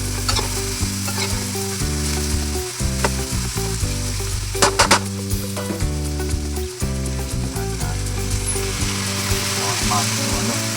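String beans and ground meat are stir-fried in a pan, giving a steady, loud sizzle close by, broken by repeated scraping and stirring strokes, with background music playing underneath.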